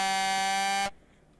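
A bright, harmonically rich buzzer tone from a synth preset sounds steadily and loudly for under a second, then cuts off abruptly into quiet room noise.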